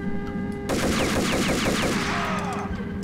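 Rapid gunfire in Max Payne 3 shatters glass, a dense burst of loud shots and breaking shards that starts abruptly and keeps rattling for several seconds, with ringing glass debris trailing at the end.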